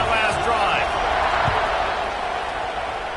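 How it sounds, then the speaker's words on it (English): Virginia Tech football fans fill a stadium with a loud, sustained crowd roar during a kickoff, a steady wash of cheering that stays high throughout with an announcer talking over it. "this crowd is feeling themselves after that last drive"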